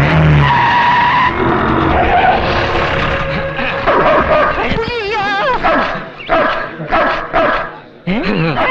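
An Alsatian and a native dog barking loudly and furiously on either side of a yard in a tense film scene, the Alsatian rabid, with overlapping barks, yelps and snarls in quick, frantic bursts close up.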